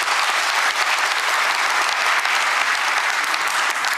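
A large audience at a national government briefing event applauds steadily, a dense, even wash of clapping hands that holds at full strength throughout with no voices standing out.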